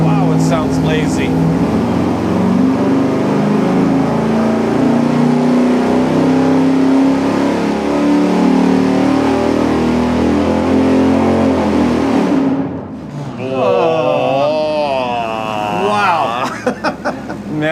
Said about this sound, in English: Man, that is such a lazy engine.